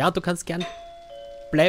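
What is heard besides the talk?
doorbell ringing in Visage video game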